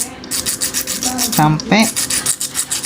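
Coarse, quick back-and-forth rasping of sandpaper on the tip of a pin, close and rhythmic, with a brief spoken word partway through.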